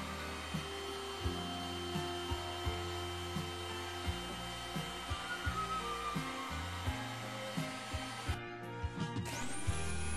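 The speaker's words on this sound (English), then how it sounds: "A heat gun helps lift the paper." A heat gun blows with a steady, airy whoosh throughout, lifting paper from a board, joined by faint clicks and light knocks, with no voices.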